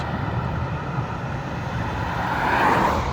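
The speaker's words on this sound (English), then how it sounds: "This diesel is a little coarse and gruff, but when it warms up, then it does smooth out a little bit." A classic Mercedes diesel engine runs with a steady, coarse low rumble, close and continuous, swelling slightly louder near the end; no talking.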